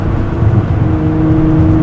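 A Nissan GT-R drives through sharper turns, its engine giving a steady loud drone with a low whirring tone from inside the cabin and no talk.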